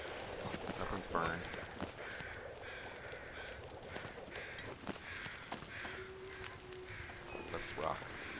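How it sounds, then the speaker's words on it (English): Crows caw repeatedly in The Long Dark, harsh calls spread through the scene at a moderate distance over a faint windy backdrop, with occasional crunching steps. "Crows are out."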